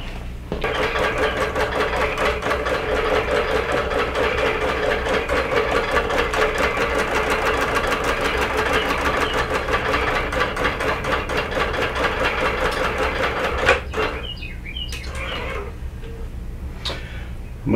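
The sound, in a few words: quilting sewing machine stitching with soluble thread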